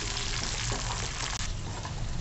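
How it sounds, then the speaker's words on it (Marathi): Peas and peanuts sautéing in a spiced oil tempering for fried rice made from leftover rice, giving a dense, even sizzle close by with a faint stirring scrape partway through, no talk. "आता छान परतवून घ्यायचं"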